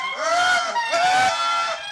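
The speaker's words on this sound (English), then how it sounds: "Within seconds, there's a cacophony in response to the recording from the lemurs all above us in the rainforest." Indri lemurs high in the Madagascar rainforest canopy answer a played recording with loud, wailing, honk-like calls that rise and fall in pitch, two overlapping swells in quick succession.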